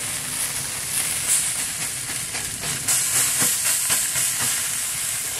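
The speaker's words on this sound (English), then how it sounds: "Sear them up a little bit and put them back on the smoke side." Pork neckbones searing over the hot side of a grill give off a loud, continuous hiss and sizzle that stays close and even throughout, with faint crackles rising now and then.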